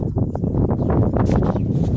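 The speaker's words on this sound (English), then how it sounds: "Sorry about the wind, the noise and everything." Wind buffets the microphone outdoors on a horse farm, a steady, dense, low rumble that runs unbroken for the whole stretch with no voices.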